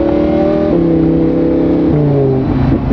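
A Lamborghini V10 fitted with an F1-style exhaust drones loudly at steady idle while warming up, its tone stepping down in pitch a few times, close and continuous with no talking.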